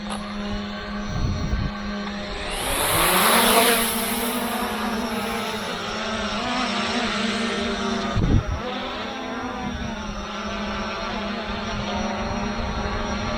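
A Hubsan Zino 2 drone lifts off nearby, its motors spinning up into a loud rising whine with broadband rotor buzz that then settles into a steady hum, with no voices.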